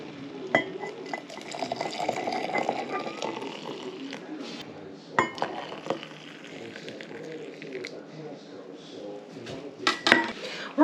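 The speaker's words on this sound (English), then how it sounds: "add 1 3/4 cups of hot water to this" Hot water poured into a container while making homemade dish soap, a soft liquid pour mixed with clinking of dishes and glass, plus sharp knocks and clatters throughout.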